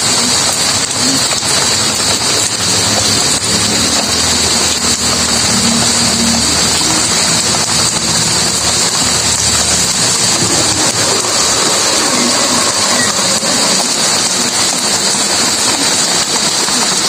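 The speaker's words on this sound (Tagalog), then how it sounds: "Ulan ng ulan." Heavy rain pours down on an afternoon in a steady, dense hiss that never lets up, with a faint rumble of a passing engine in the background and no talking.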